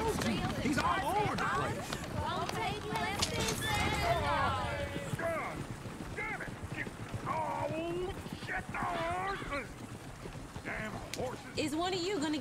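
Horse hooves clop in Red Dead Redemption 2, a steady run of hoofbeats with a whinny, mixed under background voices and talk.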